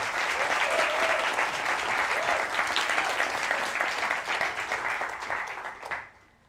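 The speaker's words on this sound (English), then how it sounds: "Round of applause for," Award-ceremony audience applauding at an innovation summit, a steady, dense round of clapping that holds evenly before fading out at the end.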